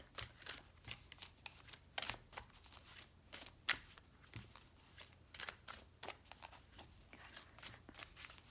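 Tarot cards shuffled by hand in a quiet room, a steady run of soft riffling flicks and snaps that stays close and rather faint, with no talking over it.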